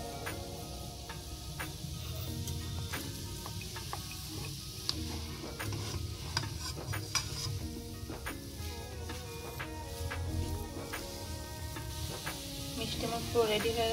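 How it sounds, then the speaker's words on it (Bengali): Topara pak, a sweet, is stirred in a pan with a spoonful of ghee, producing faint, irregular scraping ticks over a soft, low sizzle that continues throughout. "এবার আমি 1 চামচি ঘি দিয়ে মিষ্টিটা একটু নাড়িয়ে চেড়ে নেব।"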